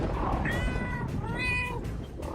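A house cat meows twice in close succession, clear bright cries with a rising-falling pitch, heard alone against faint room noise.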